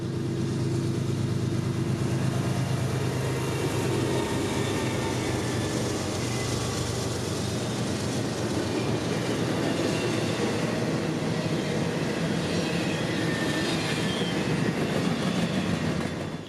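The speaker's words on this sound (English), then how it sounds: "And not 90 seconds later would be IO-17, revving back up to the 60 mph intermodal speed limit." Long intermodal freight train IO-17 in upstate New York rolls past close by as its locomotives rev up toward 60 mph, a steady loud rumble of engines and wheels on rail that continues with no break.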